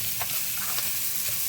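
Sausage browning in a pan for a baked spaghetti casserole gives a soft, steady sizzle close by, broken by a few light scrapes of stirring.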